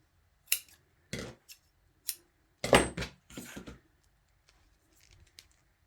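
Scissors snip through craft material for a fake snow cone, giving about five or six separate crisp cuts spaced unevenly, close and fairly quiet, with no talking.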